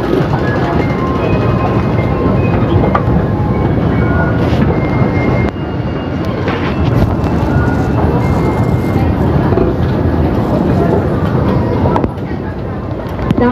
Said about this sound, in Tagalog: Galing tayo sa train. Lalim ng train.